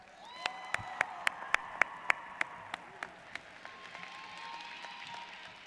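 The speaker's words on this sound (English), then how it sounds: "Can we give a round of applause to all the staffs?" Audience applause for school staff at a graduation ceremony: a soft, far-off patter of many hands under a series of sharp, evenly spaced clap-like cracks that ring out one after another, then fade.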